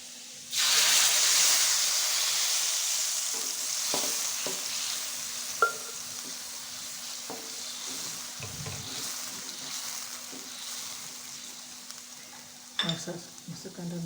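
Blended spice paste hits hot oil in a pan with a loud sizzling hiss that gradually softens, followed by scattered scrapes and clinks of a spoon stirring, plus a faint steady hum.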